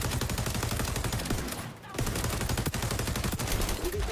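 Rapid bursts of gunfire from the shooter game xDefiant played on PS5, dense and loud throughout, with a brief lull midway before the shooting resumes.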